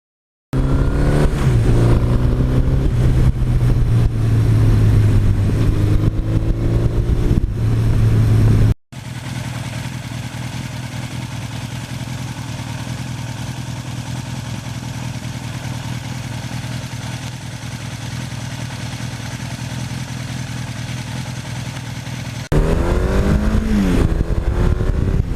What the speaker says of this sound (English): he noticed right away a little bit of extra rumble from the 86 exhaust